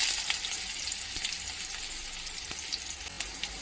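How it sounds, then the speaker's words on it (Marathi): Onion fries in hot oil in a kadhai with a continuous moderate hiss, scattered light crackles and a few soft utensil taps. "इथे मी कढईमध्ये तेल गरम करून घेणार आहे कांदा घालायचा आहे"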